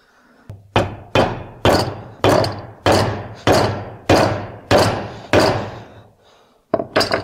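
Close, loud hammer blows strike a part of a Vespa PK 50 XL2 engine: about ten sharp, evenly spaced knocks, each with a brief ringing tail, then a short pause and two quicker hits.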